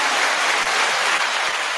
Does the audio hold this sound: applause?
yes